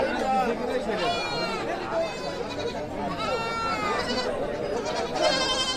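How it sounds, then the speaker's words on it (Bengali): Goats and sheep bleat repeatedly at a busy livestock market where goats are sold, the wavering cries rising over steady crowd chatter and someone talking throughout. "এই যে ছাগলের হাট"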